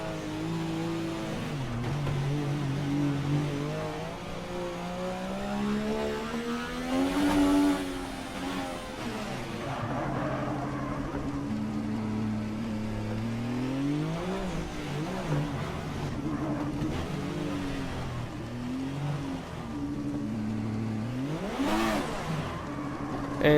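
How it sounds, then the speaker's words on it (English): A Formula Drift car engine revs hard and repeatedly, rising and falling in pitch with turbo whine, loud and close, with a few sharp surges and no talking. "But I can hear the turbos, man."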